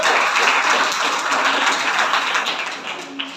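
An audience applauds at a Hindi-language gathering on the Ram temple and equality laws, with steady, dense clapping that carries on throughout and thins slightly toward the end.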